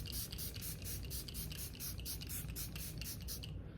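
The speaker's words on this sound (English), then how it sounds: "The sprayer is a little intense." Makeup setting spray misted from an intense sprayer, a steady hissing spray with rapid pulsing bursts running for several seconds, close up and alone.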